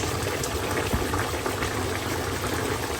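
Hilsa fish curry broth goes into a cooking pot as a steady, loud bubbling and splashing of liquid that runs unbroken throughout, with no one speaking.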